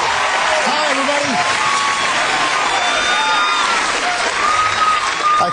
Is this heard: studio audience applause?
yes